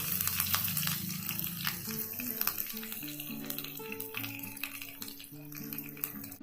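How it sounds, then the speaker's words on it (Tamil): Mustard seeds crackle and splutter in hot oil for a coconut milk rasam tempering, with asafoetida added. Dense, steady popping and sizzling runs throughout, with a soft melodic tune playing underneath. "கடுகு நல்லா பொரியுது"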